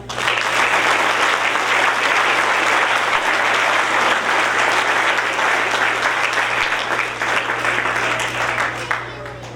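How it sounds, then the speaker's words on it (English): Loud, sustained audience applause at a high school JROTC change of command ceremony, dense clapping from a large crowd filling the room, with a low steady hum beneath it. "Please give them a round of applause."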